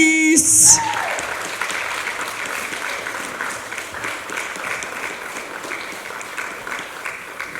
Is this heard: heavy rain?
no